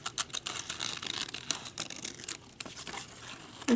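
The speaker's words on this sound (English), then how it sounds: "I think I'll use my detail scissors for this." Small detail scissors cutting around a printed paper saying, soft irregular snips and crisp paper rustles, close and quiet with no talk.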